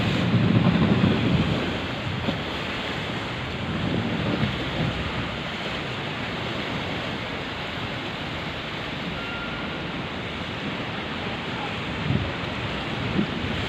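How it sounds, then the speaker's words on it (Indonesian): Waves churn and strong wind buffets the microphone at a ferry pier in Merak port under overcast, rainy weather, a dense continuous roar with no talking. "Cuaca saat ini sedang ombak"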